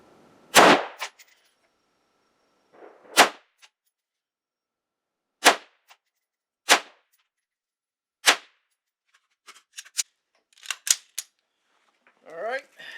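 AR-15 rifle firing 62 grain green tip rounds at an outdoor range: several sharp, loud cracks spaced a second or two apart, then a quicker cluster of shots, with brief mumbled voices between them.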